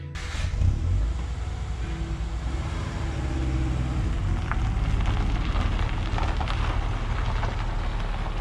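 A car pulls away with a steady engine rumble and road noise that build after a door thump at the start, heard from inside the car with a constant hiss and no speech.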